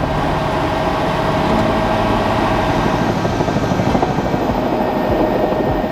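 Helicopter engine and rotor roar, close and loud, holding a steady, dense drone with a faint rhythmic beating throughout and no voices.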